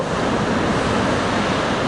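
Ocean surf and wind at a beach surf spot at high tide, a continuous dense roar of breaking waves with wind buffeting the microphone, loud and close.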